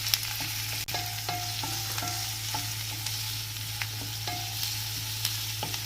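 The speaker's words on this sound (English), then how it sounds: "we will saute this until the onion turns translucent" Chopped onion sautéing in hot oil with golden-browned garlic for a fenugreek leaf (methi) sabji, a steady close sizzle with occasional soft stirring clicks and scrapes, no talking.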